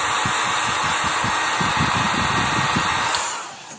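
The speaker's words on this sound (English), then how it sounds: "So now, you turn your heat gun on." A heat gun runs steadily with a loud, continuous blowing whoosh and a faint pulsing motor beneath, used while shrinking tubing on a fishing hook, then spins down at the end.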